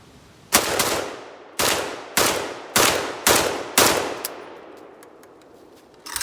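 A Riley Defense RAK-47-P rifle fires brass-cased rounds: six loud, sharp, close shots at a steady semi-auto pace, each ringing out in a short echoing tail before the next.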